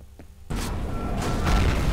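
An explosion in the first-person shooter F.E.A.R. bursts in after a short quiet moment, then becomes a loud, sustained roaring rumble that swells further toward the end.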